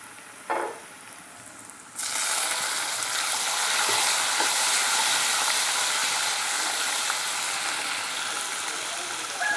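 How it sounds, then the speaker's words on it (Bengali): Onions and green chillies frying in a pan for a dal and egg dish, a faint clink at first, then a loud, dense sizzle that erupts suddenly and holds steady and close. "এখন এগুলো সবগুলো একটু ভেজে নিলাম। দেখুন সবগুলো উপকরণ ভাজা হয়ে আসছে।"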